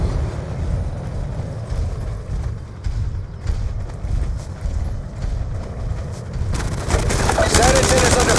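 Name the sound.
gunfire in the video game Call of Duty Black Ops 2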